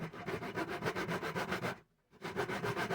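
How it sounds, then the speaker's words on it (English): Back-and-forth rubbing of sandpaper along the edges of a wooden handrail, steady rhythmic strokes close up with a brief pause before the scraping resumes. "You then sand the edges of the handrail, give it a nice smooth brown finish."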